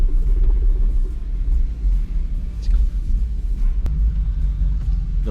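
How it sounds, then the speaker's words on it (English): Aston Martin V8 Vantage and BMW M4 engines rumble together as the sports cars idle and pull away in first gear, a loud, deep, steady burble close by with slight surges. "Both of these cars sound incredible in their own way, so I am so excited to hear them together."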